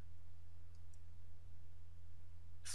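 A computer mouse is right-clicked in AutoCAD 2016 while annotative dimension scales are being set. A couple of faint soft clicks are followed by one sharper, louder click at the end over a quiet steady hum.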